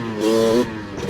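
A Honda 250R engine revs in one short, loud, buzzy burst that rises and then falls off, heard up close.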